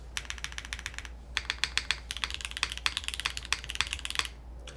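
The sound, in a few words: typing on a mechanical keyboard with modded Gateron Milky Yellow switches and polypropylene plate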